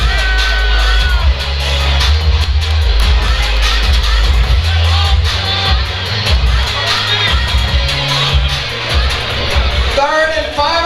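Loud live crowd at a Fight Lab 20 MMA event cheers, whoops and yells for two fighters between rounds, a sustained roar of shouting voices with scattered clapping filling the whole stretch.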